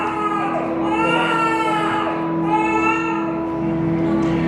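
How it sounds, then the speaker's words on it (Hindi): A newborn baby's crying performed in a live stage skit about the life of Kabir in Pune, with steady wailing bursts held over a constant hum, close and fairly loud, with no speech over it. "किसी नवजात बालक की किंकारियां सुनाई दी"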